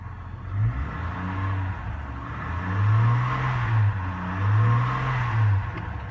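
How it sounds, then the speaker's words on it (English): A 2003 Chevrolet Trailblazer idles with a deep, throaty exhaust rumble, its exhaust ripped off the back, rising and falling in a few gentle revs, close by and alone. "It's a little throaty because it had an exhaust ripped off the back, but it does run nicely."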